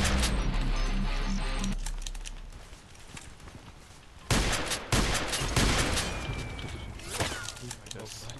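Kel-Tec KSG pump shotgun fired in the online shooter Contract Wars, with sharp loud blasts spaced a second or so apart, plus pump clacks and other gunfire over a steady game background.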